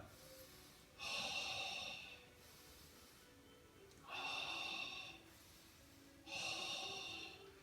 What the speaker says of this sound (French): Une dernière respiration latérale thoracique